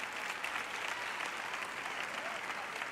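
A large audience claps and cheers at a preacher's talk, a dense, even wash of applause that holds steady and fairly loud from start to end, with no individual voices standing out.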